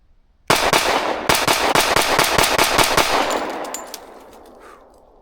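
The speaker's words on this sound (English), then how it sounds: "shoot it quicker here to give you a view of the recoil impulse under a little bit more faster shooting" Girsan Witness 2311 Brat .45 ACP-style airsoft pistol, ported, fired rapidly outdoors: a quick string of about a dozen sharp, loud cracks, then a fading tail as echoes die away.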